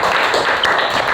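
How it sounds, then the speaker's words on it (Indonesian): A classroom of students applauds the last group to present, a dense, steady wash of many hands clapping at close range, continuous and fairly loud throughout. "yuk tepuk tangan buat kelompok terakhir"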